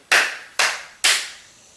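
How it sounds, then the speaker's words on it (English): Three sharp hand claps used to synchronize a podcast recording, evenly spaced about half a second apart, loud and close, each with a short reverberant tail in a quiet room. "Some clapping."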